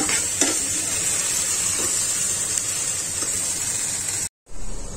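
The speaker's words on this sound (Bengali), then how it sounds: "পটল ভাজা আর ভেন্ডি ভাজা।" Pointed gourd and okra frying in a pan, a steady bright hiss and sizzle with a few faint utensil clicks, continuous and fairly loud, briefly dropping out near the end.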